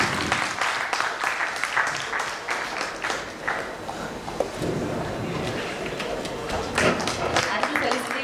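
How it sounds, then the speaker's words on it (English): Audience applause at a medical talk felicitation, sustained clapping through the whole stretch with some background chatter and movement mixed in. "A big round of applause for them."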